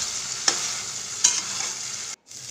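Steady bright sizzle of prawns frying in a hot pan on medium flame, with a couple of soft stirring scrapes and a brief drop-out near the end.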